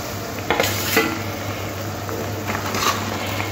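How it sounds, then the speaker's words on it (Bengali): Pabda fish slid into bubbling mustard-poppy gravy in a pan, with a few clinks and soft splashes over a steady low simmer, close and fairly quiet. "গ্রেভিটা ফুটে উঠেছে, মাছগুলো দিয়ে দিলাম।"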